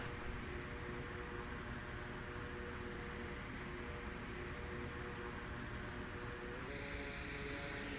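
A drone hovers overhead in the VR shooter Onward, a steady dense buzzing whir held at an even level throughout, close and fairly loud with no clear breaks.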